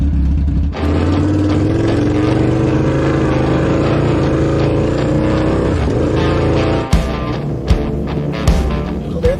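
Monster Chopper with a Hayabusa-engined sidecar pulling away, a loud steady engine drone that holds throughout, then a few sharp revs and throttle blips near the end.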